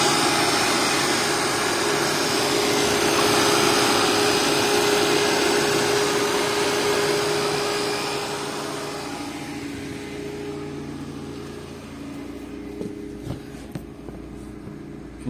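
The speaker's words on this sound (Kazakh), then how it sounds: "Вентилятор қосылып тұр уже." Radiator cooling fan of a Lada Priora, stuck running nonstop after the engine reached 100 degrees, gives a steady loud whir that drops in level partway through, then continues quieter with faint clicks and knocks.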